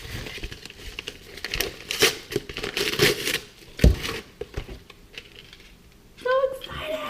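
Plastic packaging of a Rafiki bracelet being torn and crinkled open by hand, a string of close, sharp rustles and crackles in irregular bursts, with a brief voice near the end.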